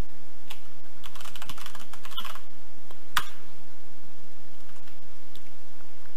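A password is typed on a computer keyboard during a Linux server setup, a quick close run of keystrokes followed by a single sharper key press, then near quiet.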